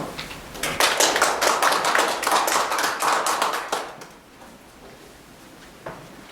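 Audience applause welcoming Professor Kang Hee-jeong to the podium at an expert invited lecture, a dense burst of clapping that fades out after about four seconds, leaving a quiet room with a single late clap.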